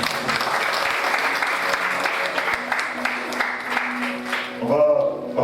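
A church congregation applauds the Lord in a dense, sustained round of clapping, fairly close and even, with voices rising near the end.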